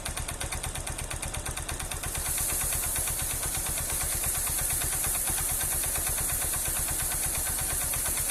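A motorcycle engine under repair for a faulty stator and regulator idles close by with a steady, rapid pulsing beat, settling into an even drone with a faint high whine after a couple of seconds; no talking.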